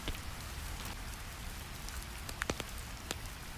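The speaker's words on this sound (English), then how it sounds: "Outside, the rain begins to fall. Gentle drops on the roof above." Gentle rain falls on a roof overhead, a soft, steady patter with scattered sharper drop ticks and no voices.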